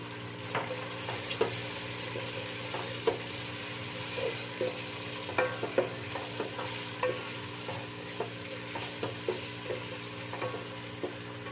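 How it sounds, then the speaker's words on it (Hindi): Whole garam masala spices sizzle steadily in a hot pan, with frequent close scrapes and taps of a stirring spoon over the constant frying hiss. "जो गरम मसाला हमने रखा था, खड़े गरम मसाले, ये हमने इसमें डाल देना है।"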